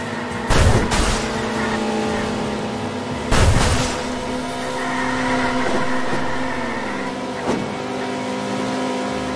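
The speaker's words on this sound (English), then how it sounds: "I've since gone in and added audio for most of the important elements. Car engines, skidding sounds, crashes, and power-ups." Game audio from the indie racing game Left Turn Legend: a steady droning car engine hum runs throughout, broken by two loud broadband crash-like bursts near the start and a softer impact later, with no speech.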